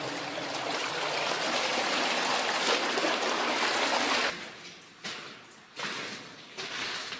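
Water drains from an old copper mine in a steady rushing, trickling flow that fills most of the span, then breaks off into a few shorter gushes.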